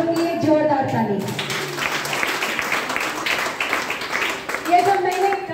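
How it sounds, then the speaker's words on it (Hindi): A crowd at a gathering breaks into loud, sustained clapping that swells and holds steady for several seconds, with a voice speaking briefly before and after the applause. "आप लोग के लिए जोरदार ताली।"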